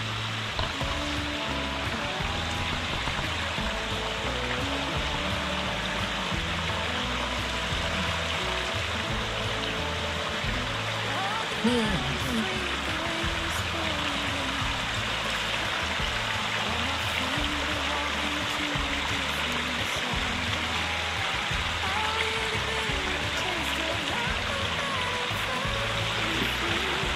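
A mountain stream along a hiking trail above a lake flows steadily, a dense constant rushing and babbling of water that stays even throughout, close by with no talking.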